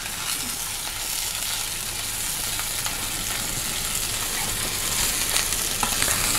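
Meat and shore-gathered cockles cook in a hot pan with a steady, dense sizzle and crackle that runs close and even throughout, with no voices over it.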